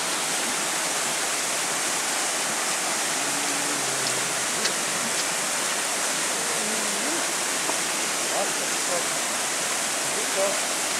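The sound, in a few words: waterfall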